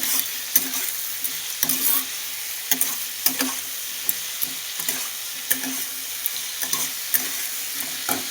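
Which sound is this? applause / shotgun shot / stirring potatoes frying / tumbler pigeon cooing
stirring potatoes frying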